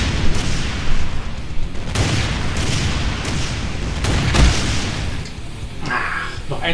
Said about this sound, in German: Ach, noch ein Schuss.